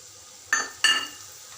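Fenugreek and coriander seeds fry in a spoonful of hot oil for palak pachadi. Two quick scraping stirs stand out over a soft, steady sizzle.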